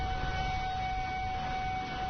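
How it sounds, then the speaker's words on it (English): Emergency warning sirens sound outdoors as a steady, sustained wail with no pauses, moderately faint against a low background rumble. "But many people get their warnings by emergency sirens."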